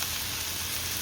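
Gujarati doodhi methi muthiya dumplings being tossed in a hot frying pan, a steady close sizzle with a soft hiss and no voices over it.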